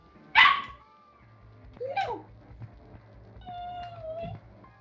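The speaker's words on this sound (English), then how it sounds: "Do you hear my dog?" A pet dog barking indoors, a sharp loud bark followed by a couple of softer whining yelps, with electronic game music and a steady low hum underneath.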